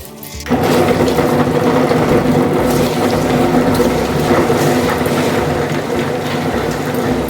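A wet grinder runs steadily while grinding rice for adai batter, giving a loud, continuous rumbling churn that starts abruptly and holds at an even level throughout.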